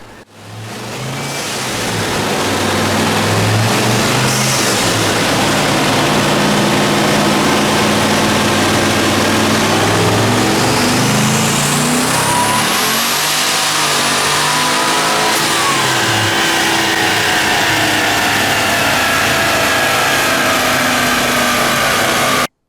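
Twin-turbo Pontiac GTO engine revs hard through a full tuning pull, a loud sustained roar that rises in pitch, peaks with a turbo whistle, then eases off near the end, with no talking over it.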